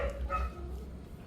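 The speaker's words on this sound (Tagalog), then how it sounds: "maingay yung aso" A dog gives a short, quick bark or yip indoors, close and moderately loud, over a low hum.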